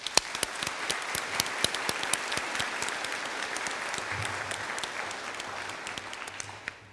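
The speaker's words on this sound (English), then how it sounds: "Let's give them a round of applause." A high school graduation crowd applauds steadily, dense clapping holding for several seconds with a few sharper individual claps standing out.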